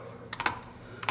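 Several quick keystrokes tap on a computer keyboard as a password is typed: a short cluster of clicks, a pause, then a couple more, quiet and close.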